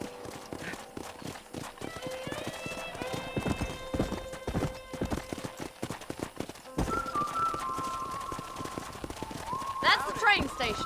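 Horse hooves clip-clop steadily in Red Dead Redemption, close and rhythmic, with a horse whinny and game dialogue voices running over the footfalls and a rising whoosh near the end.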